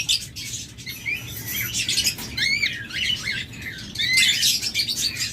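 A pair of parblue lovebirds calls nearby, with rapid sharp chirps and squawks in quick irregular bursts over a low background murmur.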